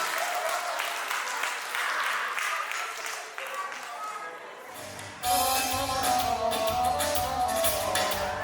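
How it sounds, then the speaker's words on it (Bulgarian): A crowd at a spring village concert in Yagodovo applauds a singing group, the clapping building into steady, dense applause after a short opening stretch of talk. "Силни аплодисменти за тях."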